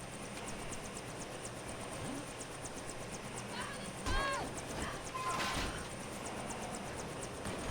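A helicopter in the LEGO Jurassic World game's Jurassic Park prologue gives a steady whirring drone, with a few brief chirping game effects rising over it midway.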